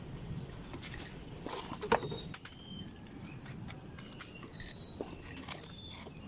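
Pigeons flap their wings in a rapid, papery flutter at close range, with scattered bird chirps over quiet morning ambience.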